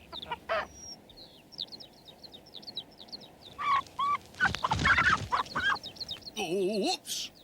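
Cheeky hen in a cartoon farmyard clucking in short, repeated bursts alongside bird chirps, with a louder flurry of squawks in the middle and a warbling call near the end, moderately loud.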